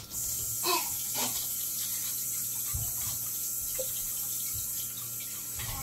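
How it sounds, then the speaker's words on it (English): Hands being washed under a running kitchen tap while cooking chicken and dumplings, a steady close wash of water with a few splashes and a low hum underneath. "Let me wash this off my hands too."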